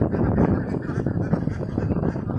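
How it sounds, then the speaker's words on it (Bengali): A flock of ducks honking and quacking together nearby, a loud, continuous overlapping chorus. "আমার হাঁসগুলো এখন আমরা পুকুরে ছেড়ে রেখেছি"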